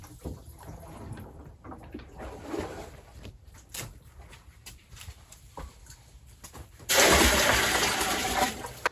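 Water is poured from one barrel into another inside a winter greenhouse, a loud steady gush starting near the end after quieter rustling and faint background noise, with no talking.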